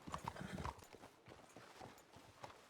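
Horses' hooves clip-clopping on hard ground, a steady uneven rhythm of clops, faint and somewhat distant, with no talking.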